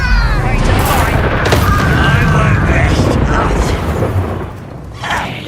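A loud, dense burst of crackling fire and booming blasts from an Incendio spell cast in a wizard video game roars almost without pause, with a voice speaking over it.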